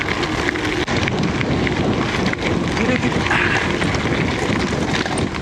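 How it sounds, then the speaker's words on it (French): Steady, loud rushing wind buffets continuously while gravel bikepacking in the Vercors, Drôme and Ardèche, a broadband roar with gusty swells that never lets up. "Et il y a beaucoup de vent."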